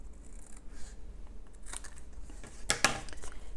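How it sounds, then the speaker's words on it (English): Scissors snip a paper tab off a shutter card for crafting, giving a quiet crisp cut or two near the end under faint room noise with small handling rustles, no talk. "So how you achieve that is you cut off one of the tabs here."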